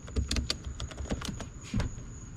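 Key clicks from a Compaq LTE-5000 retro laptop keyboard as a command is typed, a quick run of close, crisp taps in an uneven rhythm with no voice over them.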